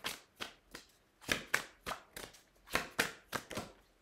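A deck of playing cards being shuffled after one card is returned to it: a series of about nine sharp, quick riffling bursts in an uneven rhythm, close and clear, with no talking.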